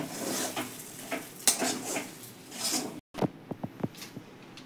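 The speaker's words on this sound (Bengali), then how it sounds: "এবারে আমি একটু নেড়ে নেড়ে শুকনো করে নেব।" Cooked lentils with salt and sugar stirred in a pan until dry, giving close scraping and clinking of a spoon against the pan, then a brief gap and a few sharp taps.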